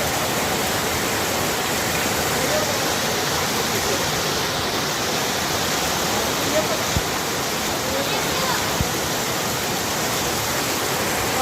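Rain falling near a bridge, a dense, steady hiss of downpour throughout, fairly loud and close, with a couple of faint knocks.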